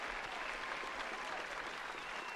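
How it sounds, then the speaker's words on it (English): Faint, sustained applause and clapping from an audience, a continuous even patter with no talking over it. "Is our applause sign broken?"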